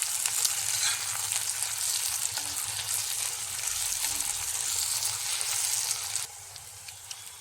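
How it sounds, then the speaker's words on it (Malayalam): Chopped onions, green chillies and tomato frying for chicken curry, a loud continuous crackling sizzle with scraping as they are stirred, the sound dropping noticeably near the end. "ഇനി ഇത് നല്ലതുപോലെ ഇളക്കി കൊടുക്കാം."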